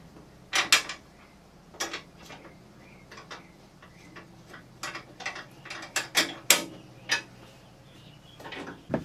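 An inner bolt being started on a Dragonfire door gives a run of sharp metallic clicks and ratcheting ticks, irregularly spaced and close by, with no talking.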